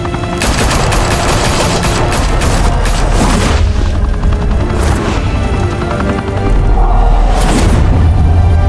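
Heavy gunfire erupts in Batman: The Telltale Series, dense bursts and booming shots filling the whole stretch at high volume, with a brief lull midway before the barrage resumes.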